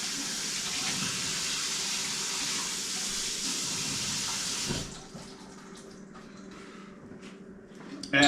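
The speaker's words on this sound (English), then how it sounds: "Rinse off our can opener." Tap water rinses a can opener at a kitchen sink, a steady close rush of running water for several seconds that stops abruptly, leaving faint clinks and drips.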